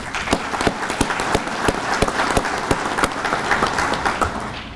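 An audience applauds at an American Legion event with a dense, steady patter of many hands clapping at moderate loudness, and no talk over it.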